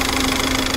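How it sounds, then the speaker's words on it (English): Peugeot 407 Coupe with the EW12J4 petrol engine, 170 horsepower, idling under an open bonnet: a steady, close mechanical hum with a faint ticking knock running evenly throughout, no voices. "So, here is the engine."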